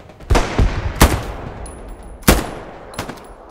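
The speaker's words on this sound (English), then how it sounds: "I'm shooting these fuckers in the back," Rapid bursts of gunfire from the World War II shooter game Hell Let Loose, with three sharp, loud shots standing out over a busy backdrop of scattered distant firing and battlefield noise.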